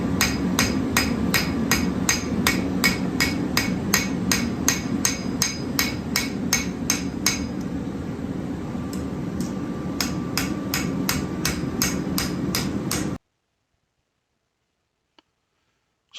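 A hammer forges the bolster of an axe on an anvil, with rapid, evenly spaced ringing blows close up. A short lull in the middle is followed by more strikes, then silence.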